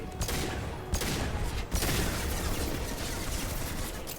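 Gunfire in the game Mass Effect 2: a dense, continuous barrage of shots with a few sharper cracks at the start, loud and unbroken to the end.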